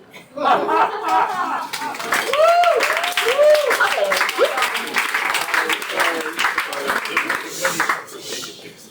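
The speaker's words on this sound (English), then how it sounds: "No clapping, no clapping." Audience clapping and applause at a New York poetry reading, steady dense claps with scattered laughter and voices mixed in, fairly close and lasting several seconds.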